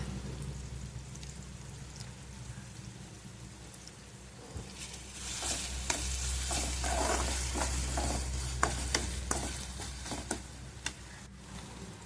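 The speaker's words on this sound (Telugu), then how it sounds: "ఇప్పుడు దానికి సరిపడా సాల్ట్, పసుపు, కారం కూడా యాడ్ చేసుకొని బాగా కలుపుకోవాలి." A tomato rice mixture with salt, turmeric and chili powder is stirred in a pot, giving soft scraping and crackling strokes that start about halfway through. They sit faintly over a low, constant background hum.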